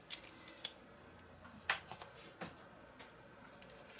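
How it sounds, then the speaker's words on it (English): Tim Holtz long-blade scissors cutting through paper, giving a few quiet, separate snips and crisp slicing strokes spread across a calm, faint background. "I am getting used to these scissors, these Tim Holtz scissors, and having such a long blade is just delicious."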